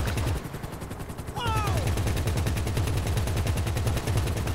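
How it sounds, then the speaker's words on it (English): Sustained rapid gunfire from a shootout at a police station in GTA 5 Online, bursts rattling steadily throughout over a constant low helicopter rotor drone, with a brief whistling sweep near the start. "I was going to say, no stars for shooting up the cop shop."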